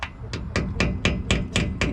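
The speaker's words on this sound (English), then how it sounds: "I'm going to get in here, some light taps with a hammer" Light hammer taps on a sacrificial screwdriver prying off a rear differential seal on a 2015 Ford F250 XL 6.2 gas 4x4, about eight sharp metallic strikes in an even, quick rhythm, close up.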